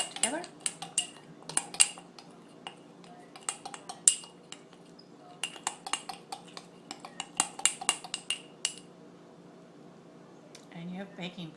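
A utensil clinks against a bowl in quick, irregular scrapes and taps while homemade baking powder is stirred with a teaspoon of cornstarch; close, moderately loud clatter with brief pauses and a softer rustle at the end.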